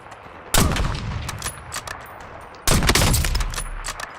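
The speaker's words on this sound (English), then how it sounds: "Somebody's sniping me." Two sharp, loud sniper shots ring out about two seconds apart in Call of Duty Warzone on Verdansk, each a hard crack with a decaying echo tail over quiet game ambience.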